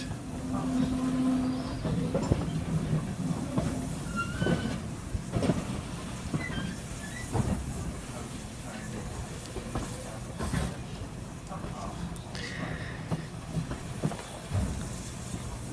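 A train rolls along the tracks with a continuous rumble, irregular clanks and knocks from the wheels, and occasional brief squeals and hisses.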